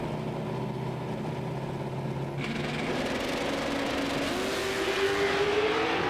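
Muscle cars in the NMCA Muscle Car Mayhem final round drag race, engines roaring loud and steady, shifting and climbing in pitch as they accelerate down the strip, with no talk over the sound.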